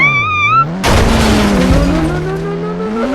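A car brakes hard and skids in the video game Indian Bike Driving 3D: a sudden loud tire screech after a brief engine tone, trailing off over a few seconds, with no talk.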